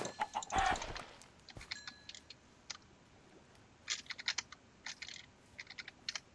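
Chicken clucks in the Minecraft video game, short and fairly faint, scattered among crisp keyboard and mouse clicks over quiet background noise, with no talking.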